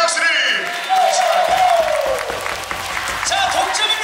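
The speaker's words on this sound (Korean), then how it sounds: "우리 김학영 선수에게도 경례의 박수를!" Indoor volleyball arena crowd in Hwaseong applauding a player during a women's pro match between IBK and Heungkuk, steady dense clapping and crowd noise throughout with a loud amplified announcer-like voice and tonal sounds over it.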